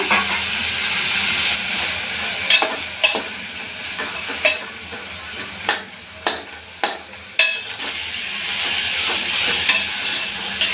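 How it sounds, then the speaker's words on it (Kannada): Grated coconut frying in a hot pan for a bitter gourd and field bean saaru, a strong continuous sizzle with repeated sharp scrapes and knocks of a spatula stirring, near and without speech. "ಕಾಯಿ ಹಾಕಿದ್ಮೇಲೆ ಒಂದೆರಡು ನಿಮಿಷ ಫ್ರೈ ಮಾಡ್ಕೊಳ್ಳೋಣ"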